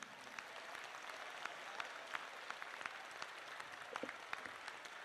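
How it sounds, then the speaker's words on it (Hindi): Men in the audience at a Bageshwar Dham mass Hanuman Chalisa recitation applaud loudly: dense, steady clapping from a large crowd that fills the whole stretch without a pause. "तो जोरदार ताली सभी पुरुष बजाएं।"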